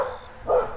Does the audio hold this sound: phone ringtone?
no